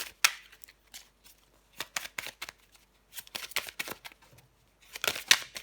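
Tarot cards shuffled and flipped by hand in a quiet room, a run of soft papery riffles and slaps that come in uneven bursts with short pauses between them and no voice.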